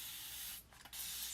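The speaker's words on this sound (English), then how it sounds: "spray it down first with water" Water sprays onto a chalk stencil from close range as a steady, soft hiss, broken by a short pause partway through before spraying resumes.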